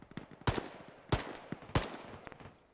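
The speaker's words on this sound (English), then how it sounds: "Oh, you're getting shot at accurately further left." Gunfire in the military video game Arma: three loud, sharp shots about 0.6 seconds apart, each with a ringing tail, over a bed of softer, more distant crackling shots.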